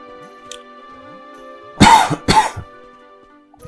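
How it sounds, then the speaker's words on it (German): A couple of sharp coughs, loud and close, break a quiet stretch of low background music during a Dragon Quest Builders play session. "wenn ich hier nur wieder husten muss"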